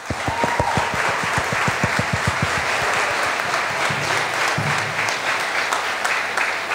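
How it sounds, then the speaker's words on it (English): Graduation ceremony audience breaks into loud, sustained applause, dense clapping throughout with a few sharp individual claps near the start. "let us give them all a resounding round of applause"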